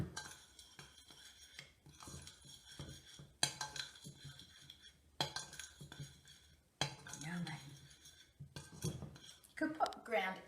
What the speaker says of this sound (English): Mix all those lovely ingredients in together. Oh, yum! It smells so nice. Give it a good stir around.